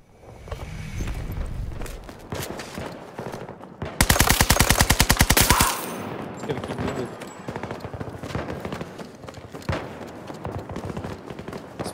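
Automatic gunfire in a Battlefield free-for-all match, with a loud, rapid burst of machine-gun fire midway and scattered shots and action sounds around it.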